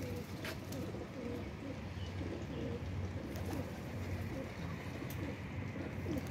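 A female Neelay pigeon coos faintly in low, rolling murmurs that repeat steadily against a quiet background.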